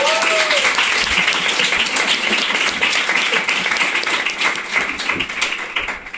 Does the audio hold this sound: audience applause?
yes